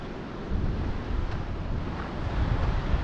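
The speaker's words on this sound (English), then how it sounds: "It's like a little waterfall there." A small waterfall at a remote campsite, heard as steady, broadband rushing water close to the microphone, continuous and unbroken with some wind buffeting and no voices.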